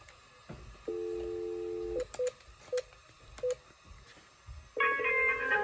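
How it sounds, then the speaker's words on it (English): Cisco 7911G IP phone playing a tonal ringtone for an incoming call, with a held electronic tone, several short beeps, then a brighter multi-tone chime, faint and close with no talk. "I have a ringtone custom on there. Well, it's basically Cisco's ringtone"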